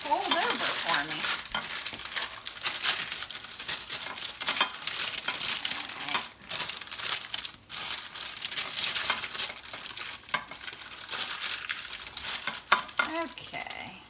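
Close, continuous crinkling and crackling of parchment paper as a brownie pan is lined, with brief pauses, faint utensil clinks and a voice talking intermittently.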